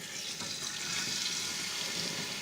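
Liquid poured into a pan on medium heat with spices in it, giving a steady, close rushing hiss and sizzle that lasts the whole clip with no voices.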